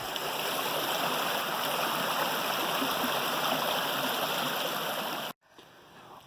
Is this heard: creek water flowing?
yes